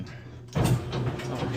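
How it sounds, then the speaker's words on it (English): Elevator doors slide shut with a sudden, fairly close rumbling thud after a quiet moment, followed by a steady mechanical hum. The elevator is at a science museum in Columbus, Ohio. "Close the doors and press the button."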